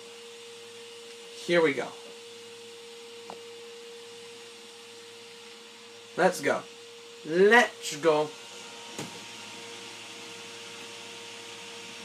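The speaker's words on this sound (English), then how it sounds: "His vacuum sounds." Steady whirring drone like a vacuum cleaner runs continuously behind Halo Reach gameplay, a constant hum underneath, while a voice speaks in short bursts over it.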